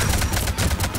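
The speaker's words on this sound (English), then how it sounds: "I shot her in the face with the incendiary rounds." Rapid burst of incendiary-round gunfire in Mass Effect 3, several loud close shots in a quick irregular rhythm with no talking.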